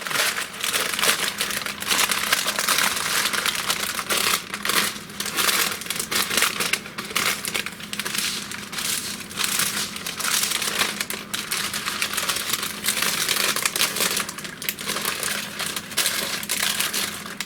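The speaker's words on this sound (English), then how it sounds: "I just kind of move them all toward that center hole and dump them right onto my paper plate" Dried elderberries are scraped off a dehydrator tray and dumped onto a paper plate, giving a continuous close crinkling, rattling patter of small dry berries that keeps going steadily throughout.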